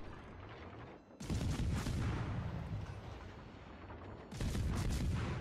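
Warship main guns in World of Warships Legends fire two heavy, booming salvos a few seconds apart, loud and close over a low rumbling battle background.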